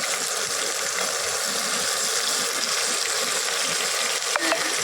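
Tomato frying in a hot pan during home Bengali cooking, with a steady close sizzle running throughout and a brief clink of a utensil near the end.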